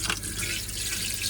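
Water runs from a boat's shower head in a steady, close, hissing spray with a slight splashing texture throughout, no voices over it.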